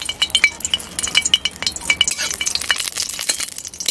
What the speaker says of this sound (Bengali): এবার ফোড়নটা দিয়ে দিই, প্রথমে শুকনা লঙ্কা